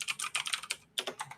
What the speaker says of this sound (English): You can probably hear my new beautiful clicky keyboard. Type away.